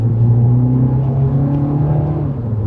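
A Mini Cooper S three-door with 204 horsepower hums along from inside the cabin, its engine and exhaust making a smooth, steady low drone without pops or crackles and no talking.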